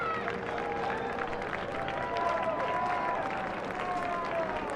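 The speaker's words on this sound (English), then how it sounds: "Many fans here on their feet cheering on the Bearcats" Football fans in a college stadium at a McNeese Cowboys versus Sam Houston Bearkats game cheer and applaud on their feet, a steady, dense crowd roar with clapping that holds throughout, fairly distant and broad.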